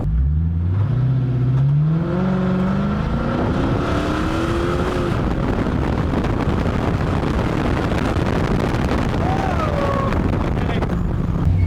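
A Hemi-swapped, body-swapped Dodge car accelerating hard on the road, its engine note climbing steadily in pitch through the gears, loud and close with heavy wind buffeting throughout.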